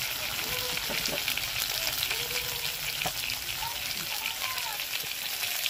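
Spice paste sizzling loudly in a pan after a splash of water goes in, a dense, steady frying hiss with light stirring scrapes throughout, no voices.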